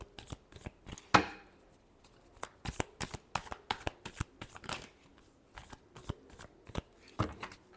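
Tarot cards being shuffled by hand, a rapid run of close, sharp riffling flicks and slaps that repeats in irregular bursts, with no voice over it.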